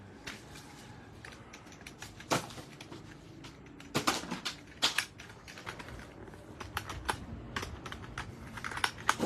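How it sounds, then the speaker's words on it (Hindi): Typing on an RGB gaming keyboard with lights, a steady run of close, clacky key presses with a few louder strokes, no voices. "गेमिंग कीबोर्ड RGB, लाइटों वाला कीबोर्ड है जी"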